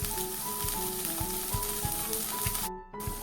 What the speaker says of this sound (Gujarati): હવે આ વઘાર છે તેને આપણે ઉકળવા દઈએ